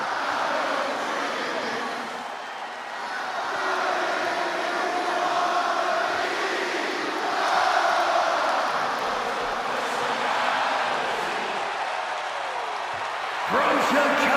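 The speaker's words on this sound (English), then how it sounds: "Just listen to this ovation for the Second City Saint" Loud, sustained arena crowd ovation for CM Punk in his hometown of Chicago in the WWE 2K26 wrestling video game, a broad roaring wash of cheering that swells and dips, with a commentator's voice over it.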